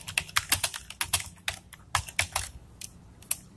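Rapid, crisp keystrokes on a computer keyboard while code is entered, a close, steady patter of clicks with brief gaps near the end.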